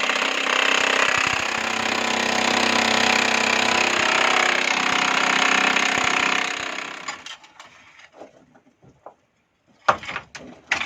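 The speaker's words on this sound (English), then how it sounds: "we're then allowed to use electric or pneumatic jackhammers, but still hand-held" A hand-held electric or pneumatic jackhammer drills in an underground sapphire mine, a loud continuous hammering roar for about seven seconds before stopping, followed by scattered knocks and clatter.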